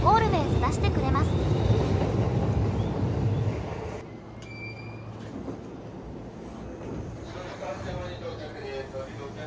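Crowded Keio Line commuter train at rush hour, a steady rumble of wheels and car noise that drops to a quieter hum midway, with a brief tonal squeal and murmuring voices in the packed car.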